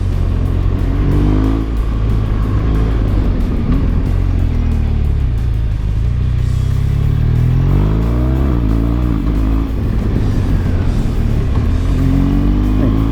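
A 2016 BMW R1200GS motorcycle engine drones loudly and continuously while being ridden sportily through curves, its pitch rising and falling with throttle, accompanied by strong wind rush.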